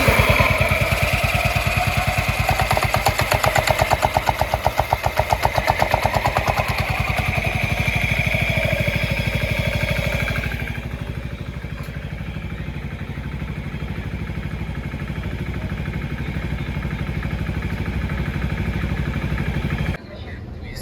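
A Honda Forza MF08 scooter with an F-ratio sensor fault starts up and settles into a steady idle, the engine running loud and close with a rough, even rhythm for about twenty seconds.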